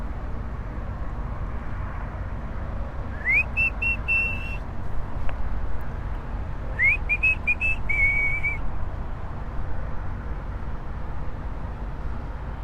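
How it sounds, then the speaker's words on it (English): A man whistling outdoors in Miami at night to call dolphins: two bright rising-then-steady whistle phrases, each about a second long, a few seconds apart over a constant hum of city background noise. "maybe they'll come if I whistle."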